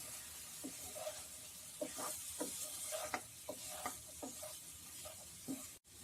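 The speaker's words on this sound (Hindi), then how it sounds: "हम इसमें ये पिसा हुआ पाउडर डाल देते हैं। लो फ्लेम पे ही इसे अच्छे से मिक्स कर लें।" Ground spice powder being stirred into mutton over a low flame, with a soft, steady sizzle underneath and repeated short scraping strokes of the spoon against the pan, quiet and close.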